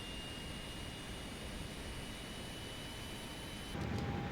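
An Airbus A320 jet engine spools up in Microsoft Flight Simulator 2024, heard from outside as a steady broadband roar with a thin whine that swells louder near the end.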